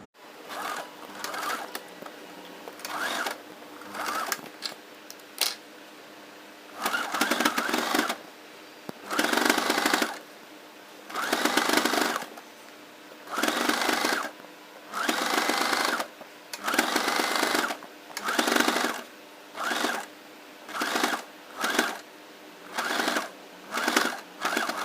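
A sewing machine stitches lace using a quarter-inch presser foot, running in loud, repeated rhythmic bursts separated by short pauses, close and without speech.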